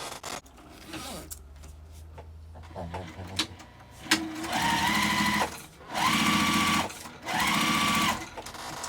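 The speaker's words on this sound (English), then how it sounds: "I'm going to sew that together and sew it on" A sewing machine stitches pieces of an apothecary tote bag in three steady whirring runs, each a couple of seconds long, close by, after some fabric handling and light rustling.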